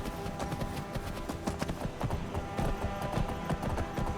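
Horse hooves in the video game Skyrim: Wildlander, a steady close clip-clop of a trotting horse at moderate volume, with rhythmic hoof strikes continuing throughout.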